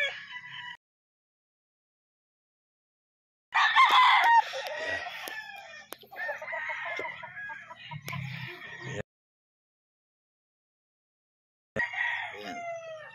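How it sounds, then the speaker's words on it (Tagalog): Gamecock roosters crow in several loud, close bursts separated by silent gaps, with hens clucking between the calls and no talking. "Andito sa likod yung mga manok ni GTP na tinatago-tago."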